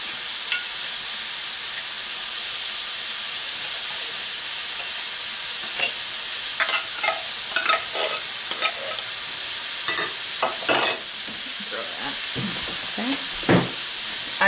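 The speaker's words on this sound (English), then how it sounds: "And your pan, I add in a can of cream corn." Creamed corn from a can is stirred in a hot frying pan, a steady sizzle with intermittent scraping and clacking of the utensil against the pan.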